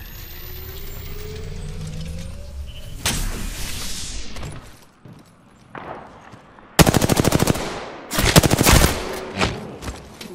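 Gunfire in Apex Legends hitting the player: bursts of rapid automatic fire and impact cracks, close and loud, broken by short pauses and mechanical clatter, and ending in dense, repeated volleys.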